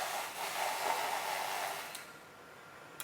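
Cold brew Americano being frothed in a large measuring cup, a steady whirring buzz of a handheld frother for about two seconds, then stopping, followed by a faint click near the end.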